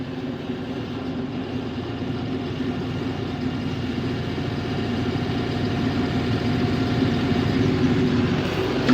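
A John Deere tractor engine idles steadily and loudly up close, a continuous low rumbling drone that holds even for the whole stretch.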